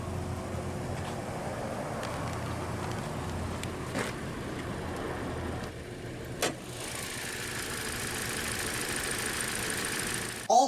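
A 2020 Toyota Corolla Hatchback SE with the 2-liter naturally aspirated Dynamic Force inline-4 idles steadily nearby, a low even hum with a couple of brief clicks and a shift in tone late on.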